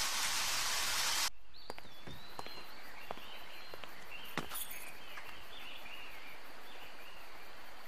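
Rain in the video game Deadly Premonition, a dense hiss of falling rain for just over a second that cuts off abruptly, leaving a faint, quiet backdrop with sparse high chirps and small ticks.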